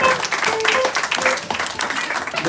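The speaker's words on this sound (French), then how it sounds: "On acclame pour la parole." A church congregation applauds during a worship service, steady clapping and cheering filling the room close by for the whole stretch.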